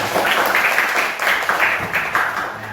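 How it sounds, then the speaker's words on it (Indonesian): Students in a Class X high school classroom in Banjarmasin give a classmate a short round of applause, steady clapping from a small group with a few louder bursts, close and unbroken for a few seconds. "tepuk tangan dulu untuk si Akna"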